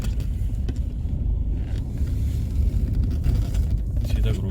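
Car bouncing over deep potholes on the badly broken Kausani–Garur motor road, a state highway in the hills; a steady loud low rumble of engine and jolting suspension runs throughout, with someone talking over it.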